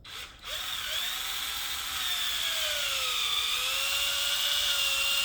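A power drill bit bores through the rubber edge of a John Deere 44-inch snow blade, a steady high whine with a slowly shifting pitch, close and loud, after a brief start.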